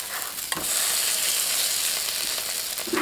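Chinese chive pancakes pan-fry in oil under a lid, giving a loud, steady sizzle with a brief crackle near the start and no talking.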